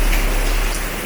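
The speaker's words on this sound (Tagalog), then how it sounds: "gagang lakas sa ulan" Heavy rain pouring down on a street in Shanghai, a loud, dense, continuous hiss of falling water close by with no voices.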